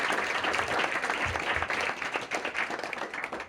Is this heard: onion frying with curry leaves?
no